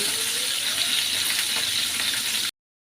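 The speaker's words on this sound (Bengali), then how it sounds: "তো এটা কিছুক্ষণ এখন ভাজা করতে দিয়ে দেব" Pieces of katla fish frying in a frying pan make a dense, even hiss of sizzling oil at moderate loudness. The sound stops abruptly after a couple of seconds.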